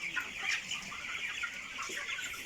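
Broiler chickens about three weeks old cluck and chatter together on a farm, a busy overlapping flock sound at moderate distance with no speech.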